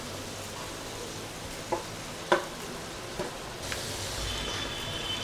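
A spoon stirring chicken in Dindigul biryani masala, a soft steady sizzle with a few faint scrapes and clicks.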